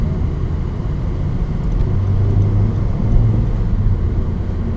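A Honda Civic FK7 accelerates, heard from inside as a steady low rumble and whir that swells slightly, with no talking.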